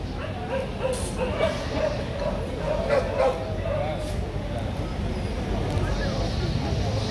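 Phu Quoc dogs at an outdoor native dog show in Hanoi, with intermittent barks and yips under busy crowd noise and people talking.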